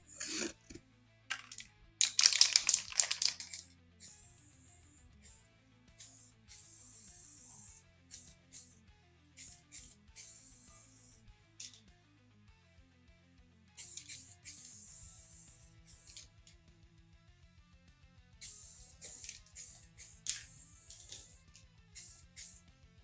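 Bursts of aerosol spray coating applied to a Volkswagen Bug, repeated hissing puffs of a few seconds each with short pauses, close and fairly loud, plus some handling clatter between sprays.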